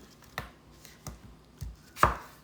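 Apples with the skin on are chopped on a cutting board: four distinct, close knife chops spaced about half a second apart, the last one the loudest, with no talking.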